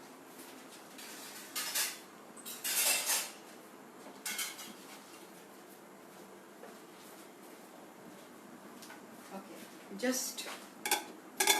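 A cooking vessel is fetched and handled in a home kitchen, with a few scattered metallic clanks and clatters of pots and utensils, loudest near the start and end, alongside brief speech.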